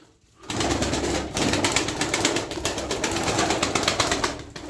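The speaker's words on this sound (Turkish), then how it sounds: "Erkek yuva kızdırıyor. Eşini yumurtaya çağırıyor." A male pigeon coos at the nest, calling its mate to the eggs, with a steady run of soft, close cooing and rustling that continues for several seconds with no voices.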